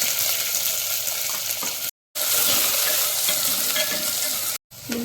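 Finely chopped onions fry in hot oil with a constant crackling sizzle, close and loud, broken by two brief silent gaps.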